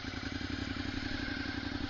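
A Suzuki Gladius motorcycle with an Ixil exhaust idles cold, a steady low, throbbing engine pulse, close and moderately loud with no talk.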